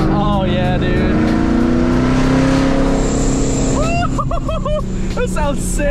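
A supercharged C6 ZR1 Corvette engine roars close and loud, with rising whistles from the blow-off valve chirping repeatedly over the engine noise, while people talk excitedly throughout.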